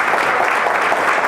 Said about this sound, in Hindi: और जोरदार ताली से हम खुदावंद यीशु मसीह को धन्यवाद करते हैं।